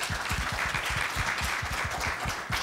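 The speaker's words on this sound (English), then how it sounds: "let's give them a big round of applause." A conference audience at beGLOBAL Palo Alto applauds the organizers, a moderate, even patter of many hands clapping, with some distinct claps in the foreground.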